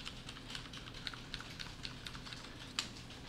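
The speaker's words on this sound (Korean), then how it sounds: "쉬프트를 누른 상태에서 방향키를 좌를 한 번씩 누르면 이게 이동이 돼요" Computer keyboard keys tapped one at a time, Shift held with repeated left arrow presses for text selection, close and fairly quiet, evenly spaced clicks with one sharper press near the end, no talking.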